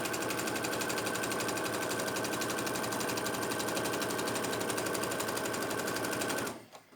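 A sewing machine stitches the fabric of an inside bag pocket in a steady, continuous whir with a fast even rhythm, running close and alone for several seconds before stopping abruptly.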